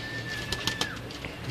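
Blue Kamgar pigeons giving a brief low coo amid soft chirpy bird sounds, close and fairly faint, with a thin whistle-like tone running through the first second.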